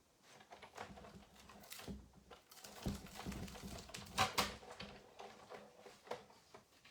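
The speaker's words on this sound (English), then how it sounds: "I'm just going to put these through the die cut machine" Handmade mixed media Christmas cards being fed through a die cut machine, close-range mechanical clattering, cranking and rattling that builds and eases over several seconds, with no voices.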